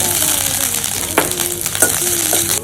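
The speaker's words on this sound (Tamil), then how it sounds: "உளுந்தம்பருப்பு போட்டுட்டு நல்லா வறுத்து விட்டுக்கோங்க." Urad dal roasting in a hot pan after mustard seeds pop gives a loud, close, continuous sizzle, with a few scrape-like stirring accents near the middle and end.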